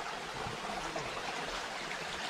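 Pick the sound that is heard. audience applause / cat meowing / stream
stream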